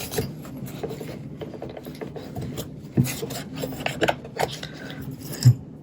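Dirt being wiped off a Kodak Instamatic 414 camera during a refurbishment: close, steady rasping and rubbing strokes over several seconds, with a few sharper knocks and clicks of the handled plastic camera body.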